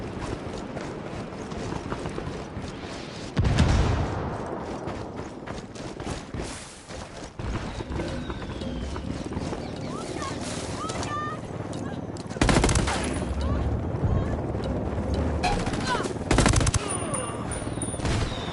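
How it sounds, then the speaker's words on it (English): Incoming mortar fire in Ghost Recon, heavy explosive blasts landing amid continuous gunfire and mechanical clatter, with big loud bursts at intervals over a sustained noisy battle. "Fuck, we got mortars incoming."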